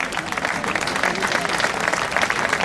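Dense applause from a petanque crowd at a 1000-boules tournament in Canada, steady and loud throughout with a rough, continuous patter of many hands and no gaps.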